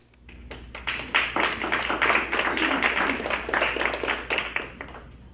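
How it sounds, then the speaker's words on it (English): An audience at a literacy council gathering breaks into steady applause that swells after a few early claps, stays dense and even, then thins out near the end. "Was that applause for me getting up"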